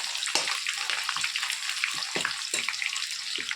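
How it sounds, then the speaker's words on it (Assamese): Onions fry with green chili in a pan, giving a bright, continuous hiss and sputter with scattered small pops, fairly close and steady with no talking. "পিঁয়াজখিনি ৰঙচুৱা হ'লে আমি অকণমান ভাজি থাকিম।"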